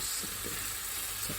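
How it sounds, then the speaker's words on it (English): Dark soy sauce sears in a hot pan, a continuous hissing sizzle that stays even and close for the whole brief moment. "you actually want the soy sauce to kind of get seared. You want to brown the soy sauce."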